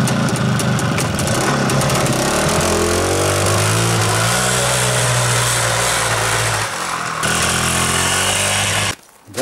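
An Izh motorcycle rides through snow, its engine droning loud and close with a rising and falling rev, then briefly cutting out near the end.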